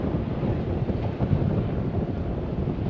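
Steady wind buffets and roars across the microphone outdoors during a hose reel repair, a dense continuous rush with no clear breaks and no speech.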